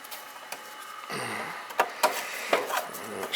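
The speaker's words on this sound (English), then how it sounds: "I'll put a couple of screws in there." Screws are driven into the metal panel of a Ruud R22 air conditioning unit, with a brief scraping whir followed by several close, sharp taps and clicks in an irregular rhythm.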